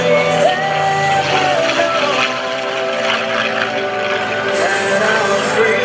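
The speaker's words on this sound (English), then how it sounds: "one more pass with Captain Craig Baker in the F-16 Fighting Falcon" An F-16 Fighting Falcon fighter jet makes a pass at an airshow with a loud, sustained roar that sounds distant but powerful, while a crowd cheers and whoops underneath.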